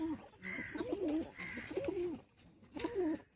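Pet pigeons kept at home coo in repeated rolling phrases, three or four bursts close to the microphone, with faint background noise between calls.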